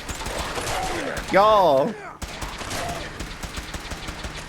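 Rapid gunfire from a gun in modded Fallout 4 rattles steadily in the background, with a brief high wavering cry and a short spoken word partway through.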